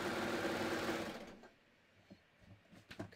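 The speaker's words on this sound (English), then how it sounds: "put my presser foot down and chain off." A sewing machine runs fast and dense as it chains off a knit seam, then cuts out after about a second and a half, leaving a few faint clicks and handling sounds nearby.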